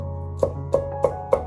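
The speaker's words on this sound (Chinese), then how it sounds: "再改刀剁成蒜末" Garlic is minced with a knife on a cutting board: four sharp, evenly spaced chops land close and clear over a low background hum.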